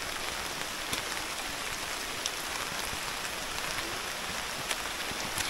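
Steady monsoon rain hisses down on a muddy trekking trail at Saputara hill station, a dense, even wash of sound with a few louder drops, close and continuous without any talk.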